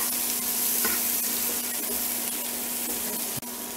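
A pat of butter sizzles in a skillet of browned home-fried leftover baked potatoes over low heat, a steady close hiss with a faint hum and a soft clink near the end, no talking.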